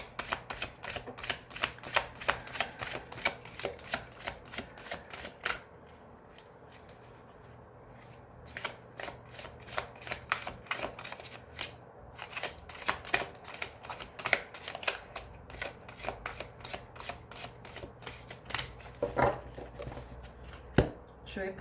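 Oracle cards being shuffled by hand for a reading, giving a rapid run of soft riffling taps, a brief pause, then more quick shuffling with a faint low hum underneath.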